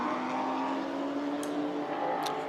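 A McLaren GT4 race car drones steadily through qualifying at the Nürburgring, its engine note holding loud and constant with a faint whir, no talk over it.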